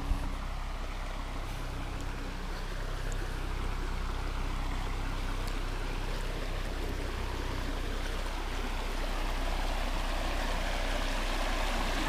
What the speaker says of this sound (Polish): nie chcę powiedzieć wodospad, bo to przecież takie po prostu uskok rzeczny.